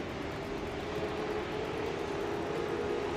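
Super 2 race car engines roar steadily at a restart at the Townsville street circuit, a continuous dense drone with a sustained tone, moderately loud and without breaks.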